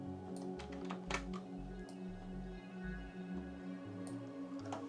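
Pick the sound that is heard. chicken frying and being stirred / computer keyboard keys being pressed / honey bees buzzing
computer keyboard keys being pressed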